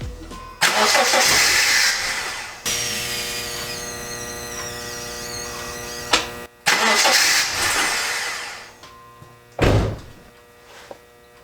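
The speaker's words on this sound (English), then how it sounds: "I'm gonna hop in and give the car a start" A Subaru car engine, just installed, cranks and catches, then idles with a steady hum; a second crank follows, ending in a short sputter, close by.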